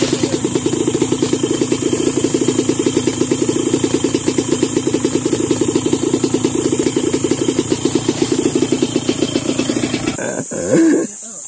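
Motorcycle engine idling close by with a fast, even putter of firing pulses that runs steadily for about ten seconds before a brief burst of revving and noise at the end.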